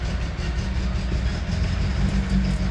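BMW E36 engine idling just after starting, a steady low rumbling drone heard close and continuous with no talk.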